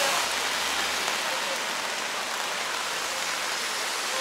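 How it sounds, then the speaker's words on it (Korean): Steady, dense patter of rain falling on an umbrella close by, a continuous hiss of drops with no breaks throughout. "비 오는 날 이렇게 우산에 떨어지는 빗소리가 좋죠?"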